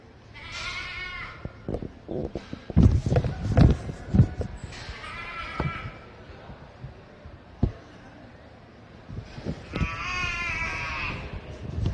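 Goats bleating at a county fair goat show, several wavering bleats spread apart with clatter and shuffling between them, fairly near in a busy indoor setting.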